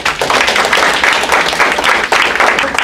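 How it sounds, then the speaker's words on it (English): An audience at a vocational achievement awards ceremony claps for the awardees, a dense, steady burst of many hands at fairly close range, continuous throughout with no voices over it. "another round of applause for all the awardees"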